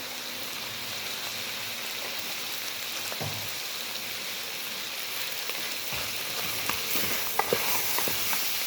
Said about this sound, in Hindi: एक 2 मिनट लहसुन को भूनेंगे और फिर इसमें 1 टीस्पून काली मिर्च शामिल करेंगे।